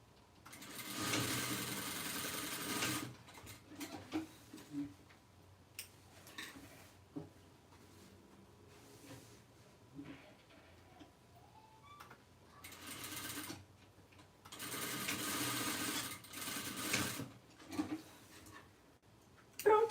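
A sewing machine stitches a handle onto a fabric tote bag in several short runs of rapid, quiet needle ticking, separated by pauses with faint handling sounds.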